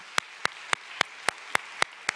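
Eight sharp, evenly spaced claps in a steady rhythm from a church congregation during worship, fairly faint, with a soft background hiss.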